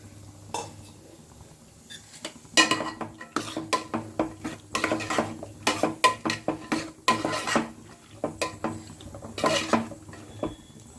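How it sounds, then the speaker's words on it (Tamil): A spoon clanks and scrapes against a pan while boiled bottle gourd and peas are stirred into masala. The metallic stirring hits come in a fairly steady rhythm and are close. "நாம் அவிச்சு வச்ச சுரக்காயும் பட்டாணியும் நாம் இதில் போட்டுக்கலாம்."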